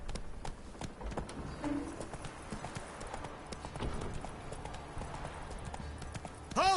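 Roach, the horse in The Witcher video game, gallops with steady rhythmic hoofbeats at moderate volume, the clip-clop running throughout alongside ambient game sounds.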